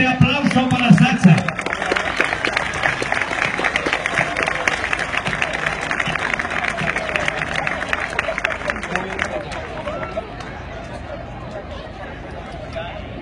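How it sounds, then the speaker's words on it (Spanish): At an outdoor ceremony awarding a medal to Sacha, a municipal police dog, a crowd claps steadily for about nine seconds before the applause thins out, with murmuring voices underneath. "Un fuerte aplauso para Sacha."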